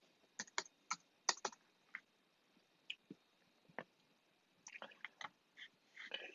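A password typed on a computer keyboard: sparse, irregular key clicks close up and fairly quiet, in short bursts with pauses, ending in a quicker cluster.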